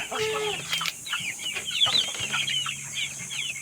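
Two- to two-and-a-half-month-old chickens cluck, peep and flap about as they are moved into a ranging area, with busy overlapping calls close by.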